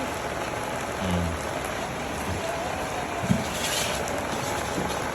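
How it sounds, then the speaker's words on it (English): Heavy rain pouring steadily on a rainy day in Africa, a dense even hiss with a few nearby knocks and drips, no voices. "Heavy rain is coming."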